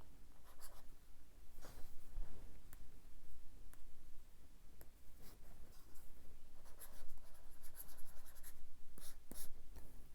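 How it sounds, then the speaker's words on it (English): A stylus scratches and scrapes steadily across a reMarkable 2 e-paper tablet screen, close and soft, with a few faint clicks and taps. "when you write on it, that's the sound it makes"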